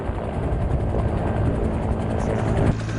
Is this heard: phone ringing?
no